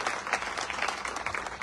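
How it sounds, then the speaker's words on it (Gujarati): Audience applause during a political speech in Gondal, a dense steady clapping from a crowd that carries through the whole moment without a break. "અને ફરીથી જોરદાર તાળીઓથી વધારે."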